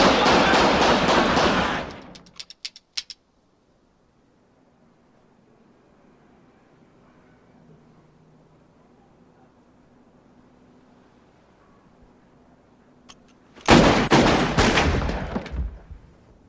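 Heavy gunfire erupts in a film shootout, a dense loud volley that stops abruptly, followed by near silence and a low hum before a second intense burst of rapid shots.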